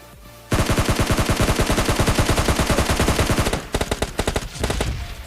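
Rapid automatic gunfire from a PUBG Lite gameplay match fires as a long, loud, sustained burst of evenly spaced shots, then breaks into shorter scattered volleys near the end.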